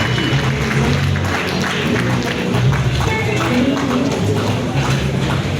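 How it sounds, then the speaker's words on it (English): Loud, dense applause from an audience in a hall at the inauguration of a Nigeria Institute chairman and executive members, steady and unbroken throughout, with faint voices and music mixed beneath. "Please a round of applause for him."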